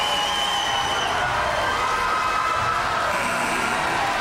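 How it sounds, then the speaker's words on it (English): Crowd roar in a high school gym after an Athens at Troy basketball upset, a steady wash of cheering and shouting that holds without a break across the clip. "It's over, and listen to the crowd."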